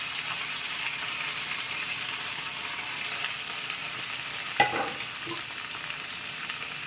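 Curry leaves, garlic and tomato fry in a pan with a steady, hissing sizzle and a single sharp clink of a utensil partway through.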